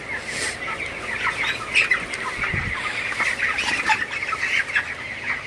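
Broiler chickens in a poultry shed, a dense flock clucking and chirping continuously at close range, with brief wing flaps and no talking.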